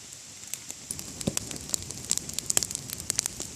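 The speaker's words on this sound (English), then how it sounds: "Let's make a bonfire." Small campfire lit with a single match at a backcountry campsite, crackling softly with scattered sharp pops and snaps over a faint hiss, close by and with no talk.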